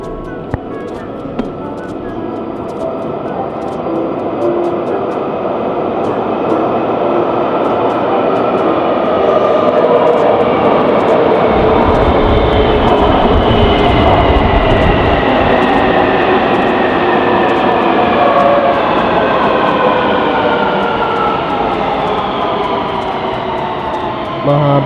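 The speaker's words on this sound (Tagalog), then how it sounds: "parating na yung train natin." Taipei MRT train pulling into a station on the line toward Taipei Main Station, a loud rising rumble and rail roar that swells and holds with a deep low throb, long and sustained, with faint voices beneath it.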